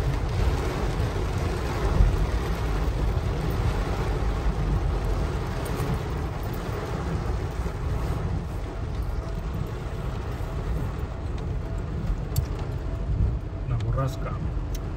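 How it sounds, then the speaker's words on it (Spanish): Strong wind and rain storm on a rainy day in San Pedro de la Cueva, a steady loud roar of gusting wind and rain buffeting the microphone for the whole stretch, with people talking over it. "Una borrasca."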